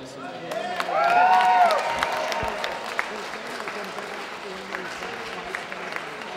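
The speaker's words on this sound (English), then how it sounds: "give a round of applause to both the students who have graduated and the current students of Code Tenderloin that are with us tonight" Gala audience in a ballroom applauding coding students, a warm wash of clapping and some cheering that swells early then settles into steady applause, with a voice briefly rising over it.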